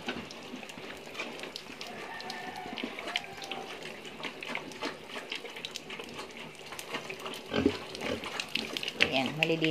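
Pigs drinking water from a manual waterer on a farm, soft slurping and splashing with occasional grunts and oinks, close and fairly quiet, alongside faint background noise.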